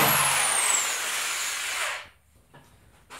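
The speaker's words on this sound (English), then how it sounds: "You could use a Forstner bit or any type of drill bit." Power drill boring a hole through a Formica-topped board for a telescope mirror box, a loud close whine for about two seconds that then cuts off, leaving quiet room sound with faint knocks.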